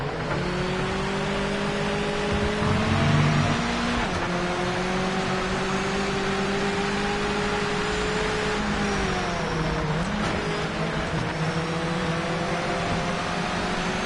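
Engine of a Mazda MX-5 in a racing video game, a steady tonal drone with clear harmonics that rise on acceleration, dip briefly around a shift, then sag and recover again, loud and continuous with no talk.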